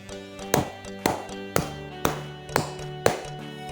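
Six sharp, evenly spaced taps mark a 6/8 rhythm beat, each crisp knock about half a second apart and fairly loud over a quiet sustained background tone.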